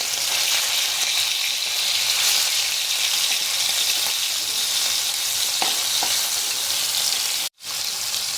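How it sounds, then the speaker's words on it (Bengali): Pieces of catla fish fry in a pan of hot oil over a low flame, giving a loud, dense, continuous sizzle close by, broken only by one very brief silence near the end. "মাছগুলো আমার এক পিঠ ভাজা হয়ে গেছে, আমি উল্টে এই পিঠটাও ভেজে নেবো"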